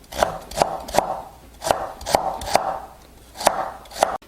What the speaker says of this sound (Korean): 당근 80g인데요. 채 썰어줄게요.